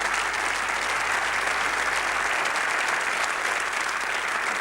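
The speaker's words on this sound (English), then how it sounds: "I think they deserve a big round of applause" A studio audience gives a big, dense round of applause for a set of children's pictures at a Coronation Street birthday celebration, steady and loud throughout with no speech.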